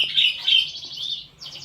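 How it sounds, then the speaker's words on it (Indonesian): A caged songbird chirping briefly, a few sharp, high, rapid warbling notes close by, with a short pause before a final burst. "hanya beberapa saat burung ini meriwik ya"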